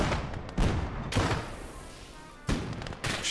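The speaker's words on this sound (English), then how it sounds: "Shoulder-fired anti-tank rounds." Shoulder-fired anti-tank rounds go off in a tank combat video game as several heavy booming blasts, loud and close, each followed by a rumbling tail, with the shots spaced unevenly across a few seconds.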